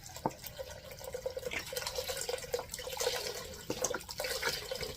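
Chicken broth pouring from a 32-ounce carton into a cooking pot for jambalaya, a steady liquid splash and trickle with faint drips, close and continuous throughout with no talking.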